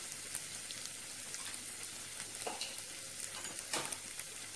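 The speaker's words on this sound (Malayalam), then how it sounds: "ഇനി നമുക്ക് സവാള ചേർക്കാം." Chopped onions sizzle and fry steadily in a hot pan for a Kerala-style country chicken curry, a loud constant crackling hiss with occasional sharper pops and stirring scrapes.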